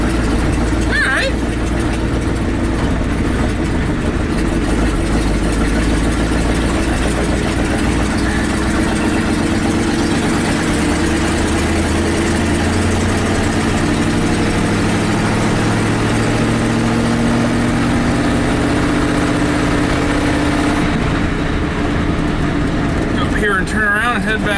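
Steady, loud rumble of a 1984 Ford F-250 pickup engine while driving in a low gear, continuous and close throughout with slight shifts in pitch, no clear talking.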